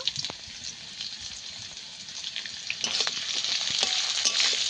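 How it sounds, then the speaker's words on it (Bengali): Frying potatoes and ginger paste crackle and sizzle in a pan, with occasional stirring scrapes and clicks, the sizzle building louder toward the end. "বেটে রাখা আদা দিয়ে আবার একটু ভেজে নেব"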